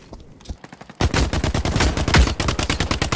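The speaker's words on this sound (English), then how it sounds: "He's shooting." Rapid bursts of video game gunfire in The Cycle: Frontier, sparse shots at first, then dense, loud, continuous automatic firing with sharp repeated cracks.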